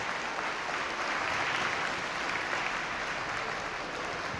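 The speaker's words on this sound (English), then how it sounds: "Let's give him a round of applause." A crowd at a Milken Educator Award school gathering applauds a student with steady, dense clapping that holds at an even level for the full few seconds, with no talking over it.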